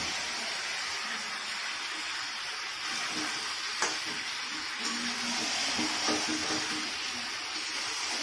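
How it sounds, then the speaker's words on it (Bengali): Meat and potatoes sautéed together in a spiced masala in a pan, giving a steady soft sizzle and hiss with a few light stirring clicks and scrapes, fairly quiet and without talk. "এবার কষানো হচ্ছে মাংসটা।"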